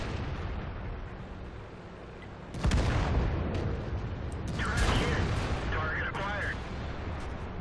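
An IS-3 tank cannon firing in World of Tanks on the Hidden Village map, one sharp heavy boom over a constant engine drone, followed by rattling mechanical clanks.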